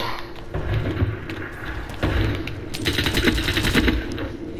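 Rapid bursts of automatic gunfire in a first-person shooter game, dense rattling volleys repeating across the clip with close, loud impacts and a brief lull between bursts.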